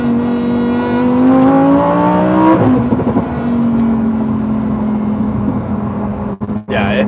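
A Lamborghini Huracan Tecnica engine revs loud and close after a paddle downshift, its harmonic tone climbing steadily, dipping around a shift, then holding a strong, sustained drone before a couple of brief breaks near the end.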